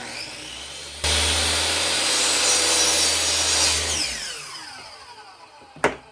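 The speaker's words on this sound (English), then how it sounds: "Then again, I cut the 2 pieces together." A saw cuts through two clamped wood frame pieces for a rustic mirror frame, a loud, steady, close grinding whine for about three seconds that winds down, followed by a sharp knock.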